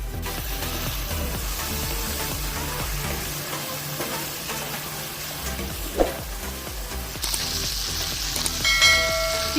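Chicken pieces frying in a pan for restaurant-style chicken fried rice, a steady dense sizzle throughout with occasional stirring clinks and scrapes, close and moderately loud with no talking.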